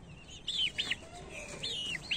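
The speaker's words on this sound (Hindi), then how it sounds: "ये चार चूज़ों में से कौन सा मुर्गा है" A few short clucks and chirpy calls from young chicks ring out close by in a quiet setting, spaced irregularly.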